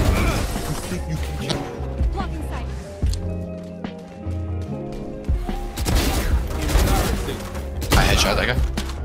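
Rapid gunfire bursts and impacts from a first-person shooter match, loud and close, repeating in clusters across the whole stretch, mixed with game effects and excited talk from players.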